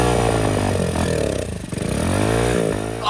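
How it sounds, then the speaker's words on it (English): A previously sunken dirt bike's small engine fires up and runs loudly up close, its pitch rising and falling as the throttle is revved, with some clattering. "we actually got the bike to fire up"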